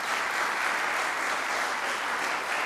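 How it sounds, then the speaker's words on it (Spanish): A church congregation breaks into steady applause after a prayer during a sermon on Proverbs, a thick, continuous wash of clapping from a large crowd, heard at some distance. "Démosle un fuerte aplauso a las personas que hicieran esta oración"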